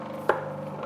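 A knife cuts a potato in half on a board, one sharp close thunk in an otherwise quiet kitchen.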